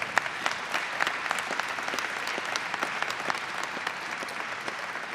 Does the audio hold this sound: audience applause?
yes